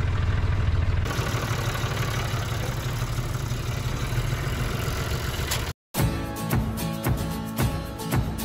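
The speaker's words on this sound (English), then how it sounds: "Trucks and tractors out here." Truck and tractor engines idle outdoors on a muddy bison ranch, a steady, moderately loud mechanical rumble that continues throughout. A brief cut interrupts it, and the engine noise then carries on with some irregular knocking.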